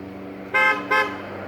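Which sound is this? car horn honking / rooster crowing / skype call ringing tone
car horn honking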